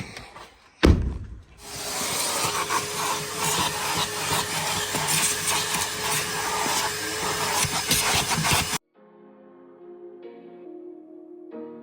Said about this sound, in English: Hoover time.